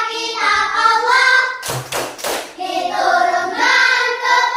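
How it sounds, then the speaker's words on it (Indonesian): Children chant the rhythmic Tepuk Al-Quran clapping ice breaker in a classroom, sung voices paused by a short burst of loud, close hand claps in the middle. "kita tepuk Al-Quran dulu, ice breaking, ya, biar semangat"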